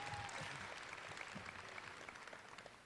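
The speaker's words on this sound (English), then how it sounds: "can we please give a huge round of applause for our president, Deborah Stanley?" Sustained applause from an audience at a university's annual welcoming torchlight ceremony, steady clapping over the full stretch with a faint tonal whistle near the start.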